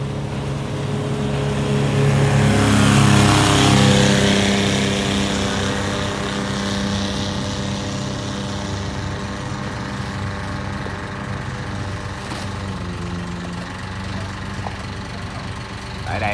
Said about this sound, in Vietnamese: anh em nghe thử tiếng của cái máy đó để anh em đón được cái chất lượng nha